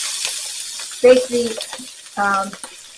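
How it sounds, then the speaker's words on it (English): Sweet onions sauté in a pan with a steady background sizzle, while a person talks over it in short bursts. "cook these onions to where they're soft and translucent."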